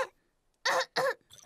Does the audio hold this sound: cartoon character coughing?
yes